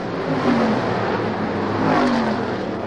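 Race cars scream around the Oswego Speedway oval during the International Classic, a loud continuous engine roar swelling and fading as cars pass, with one car racing down the back straight.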